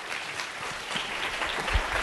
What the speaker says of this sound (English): please give a round of applause for James Oliver Sr.